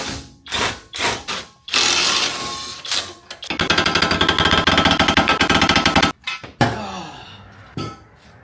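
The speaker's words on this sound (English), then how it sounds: "Get like 2 teeth click every turn out of the wrench" Rapid ratchet wrench clicking during removal of suspension parts from a Honda Civic, a dense run of close, loud, evenly spaced clicks between bursts of clanking metal and brief handling noises.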